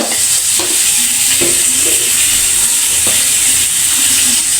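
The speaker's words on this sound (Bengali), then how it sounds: "হাফ চামচ আদা বাটা দিয়ে দেবো একটু ভেজে নেবো" Garlic and ginger paste frying with browned onions in a pan for a vegetable dish with cauliflower, beans and potato, a loud continuous sizzle broken by a few sharp spatula scrapes and stirs.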